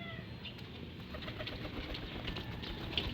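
Racing pigeons fly overhead, their wings giving a soft, fluttering flap that stays faint under steady outdoor background noise.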